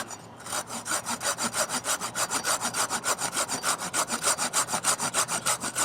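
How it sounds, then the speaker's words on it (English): A hand saw cuts through wood at a tilted angle in quick, regular back-and-forth strokes, each rasping pass close and clear with no talking. "So this is a 2-axis cut because I'm at an angle this way, and then I've leaned the blade over."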